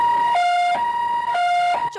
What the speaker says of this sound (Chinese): 救护车穿过蜿蜒小路